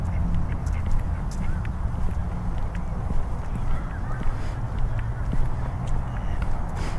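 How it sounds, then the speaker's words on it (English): Ducks honk and quack intermittently at a park lake at night, heard from a modest distance over a steady background of wind and ambient outdoor noise, with no one speaking. "Here's some nighttime ducks."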